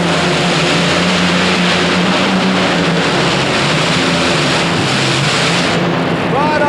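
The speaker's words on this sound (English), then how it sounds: "The V12 Allison Aircraft engines, twin fuel-injected Allison Aircraft engines, and Dwayne Bergman." A modified pulling tractor powered by twin fuel-injected V12 Allison aircraft engines roars at full power indoors at the Superdome arena, a loud, sustained, dense engine howl that holds steady for the entire pull.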